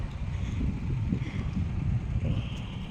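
Wind blows across an open sky walk at Kanchanaburi, a steady low rumble with buffeting gusts against the microphone and no clear voices.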